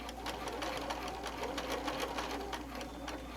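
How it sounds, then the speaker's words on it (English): A sewing machine stitching across the end of an apron strap, running at a steady, fast, continuous clatter up close with no pauses. "We're then going to take it and we're going to stitch across that"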